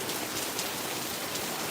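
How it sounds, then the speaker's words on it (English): Steady rain patters on a surface outdoors, a dense continuous hiss of drops without a break, heard close and alone. "Oh my goodness, the rain's getting me."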